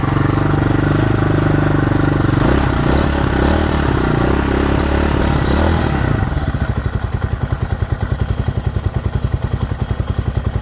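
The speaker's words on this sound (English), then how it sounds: "It's idling." A cheap, poorly welded small motorcycle engine runs loud and rough, then settles into a steady, rattling idle with a rapid pulsing chug.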